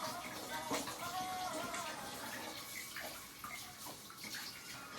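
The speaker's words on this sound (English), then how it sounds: "Then you take this off. You rinse this." A detachable juicer part is rinsed under a running tap, a steady close splash of water with shifting gurgles as the piece moves through the stream.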